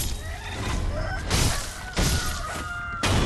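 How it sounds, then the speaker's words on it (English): Roosters clucking in Sekiro: Shadows Die Twice, several moderately loud bursts of clucking and squawking over a steady background ambience, with no talking. "I think they're roosters actually."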